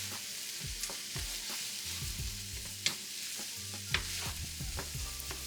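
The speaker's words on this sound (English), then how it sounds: "Then I put in my rice. Nice, flaky, fluffy rice. Then I stir that all together." Vegetable fried rice with garlic and herb butter stirred in a pot, a quiet sizzle under rhythmic scraping strokes and a couple of sharper utensil knocks.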